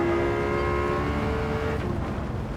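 A Lexus LFA at full throttle overtakes a Porsche GT3 RS, its engine holding a loud, steady high-pitched wail that drops in pitch as it pulls past, heard alone without talk.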